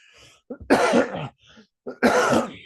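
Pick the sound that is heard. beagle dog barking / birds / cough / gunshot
cough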